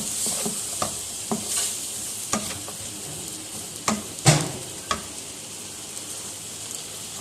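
Whole spices sizzle in a pan for mutton korma, with a steady bright frying hiss. A spoon clacks and stirs against the pot several times, sharp and close.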